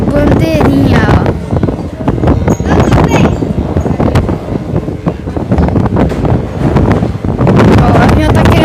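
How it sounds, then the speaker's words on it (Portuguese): Very strong wind buffets the microphone in loud, continuous gusts with rumbling low roar and rattling, near and overwhelming. "E o vento tá absurdo."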